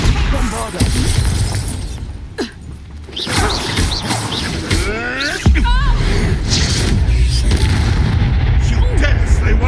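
Bombarda spell blasts in the Hogwarts Legacy video game, heavy booming, crashing explosions amid combat noise and shouted voices, with sharp impacts around the middle and a loud burst near the end.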